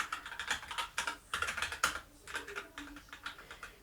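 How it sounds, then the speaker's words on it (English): Rapid clacking of Rantopad MXX mechanical keyboard keys with red switches striking bottom, many quick presses close to the ear in an uneven typing rhythm, with no talking. "really the sound is just the key bottoming out"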